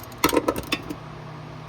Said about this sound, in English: this is our Harbor Freight Taiwan torque wrench